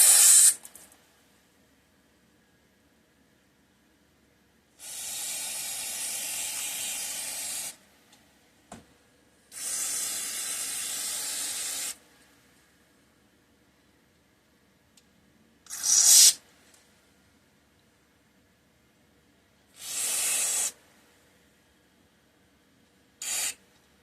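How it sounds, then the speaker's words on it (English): Carburetor cleaner sprays into the ports of a vintage Toro Proline Commercial Recycler 2 carburetor on a workbench, in two long hissing bursts followed by several shorter ones, with quiet gaps between. "I'm going to start spraying out ports and stuff."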